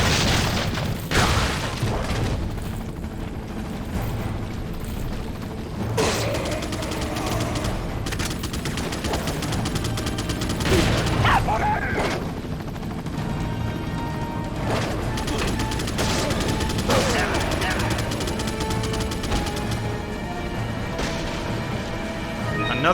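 Loud shotgun blasts and heavy booms in Resident Evil 4, irregular close shots among crashes and constant game noise over the whole stretch.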